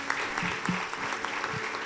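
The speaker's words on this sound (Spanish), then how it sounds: "Dale un fuerte aplauso al Señor en esta hora." Church congregation applauding during a service, a brief wash of steady clapping with murmured voices underneath.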